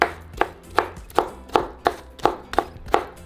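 A knife chops peeled chiles on a cutting board in eight or nine evenly spaced, crisp strokes, each a sharp close knock against the board in a steady rhythm.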